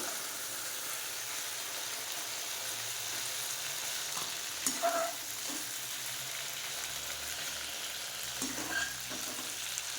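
Steady hissing sizzle of prawns frying in plenty of hot oil, with a couple of brief scraping stirs partway through.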